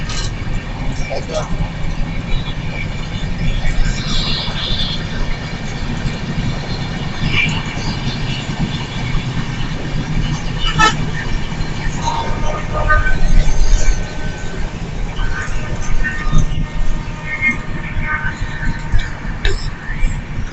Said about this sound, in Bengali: ট্রেন যাইতেছে পাশ দিয়া।